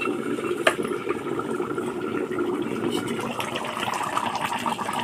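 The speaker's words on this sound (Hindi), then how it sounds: "इधर तो पूरा खौल रहा है सब्जी" A radish and potato vegetable curry boils vigorously in a pot, a continuous dense bubbling and hissing at steady volume throughout.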